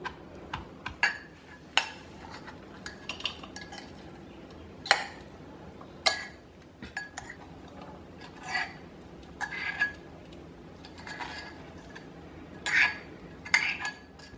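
Crushed garlic for a raw mango and garlic pickle being scraped and scooped out into a small bowl, giving scattered clinks and taps of a spoon against metal, close and moderately loud, with no talking.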